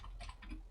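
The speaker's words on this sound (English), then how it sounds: "let's install it by typing sudo pacman" Quick clicks of keys on a computer keyboard as a Linux terminal command is entered, a short, soft burst of a few taps close to the microphone.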